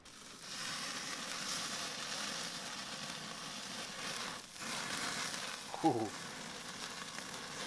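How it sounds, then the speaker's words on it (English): Tomahawk steak searing in a hot pan, a loud steady sizzle and fry running throughout, with a brief clatter near the end and a short exhale from someone nearby. "So grab this guy and get to searing."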